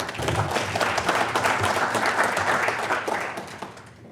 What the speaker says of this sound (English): All right, give them a round of applause.